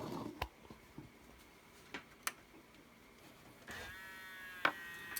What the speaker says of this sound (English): Loading belt will need to be replaced. Get a little bit of a whine there.